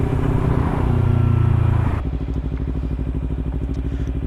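A Kawasaki Ninja 300 motorcycle rides along under clear weather, its engine droning loudly and close, then settling into a rougher pulsing rhythm with wind noise, no voices heard.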